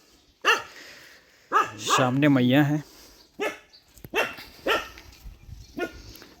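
A dog barks repeatedly at close range beside a temple staircase on the Narmada riverbank, sharp irregular barks with a drawn-out whine in between, mixed with someone talking.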